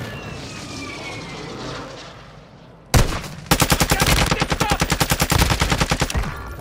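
Video game gunfire erupts after a sudden loud blast, rattling off as a rapid, evenly spaced machine-gun burst that runs to the end, following a stretch of aircraft-like engine drone.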